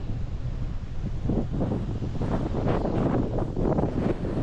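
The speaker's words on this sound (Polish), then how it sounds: "aczkolwiek jest dość mocny wiatr" Strong wind buffets the microphone in continuous heavy rumbling gusts at a riverside fishing spot, with no voices.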